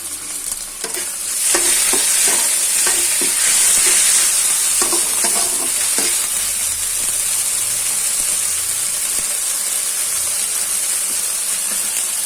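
Onions frying in oil with ginger-garlic paste stirred in while cooking aloo chop, a steady close sizzle and hiss with intermittent scraping stir strokes, no talking.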